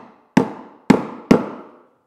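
Three sharp mallet blows strike a chisel cutting into wood for a French cleat. They land in a slow, evenly spaced sequence, each a crisp close knock with a short ringing decay, and there is no talk.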